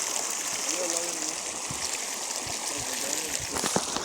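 A river stream flows steadily outdoors during a nature walk, a continuous watery rush with some trickling, while someone talks over it in places.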